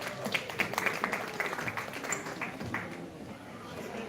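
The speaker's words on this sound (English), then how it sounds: "Please give her a big round of applause." An indoor event audience applauds a chef who has just been introduced. The clapping is dense and steady, then thins out slightly toward the end.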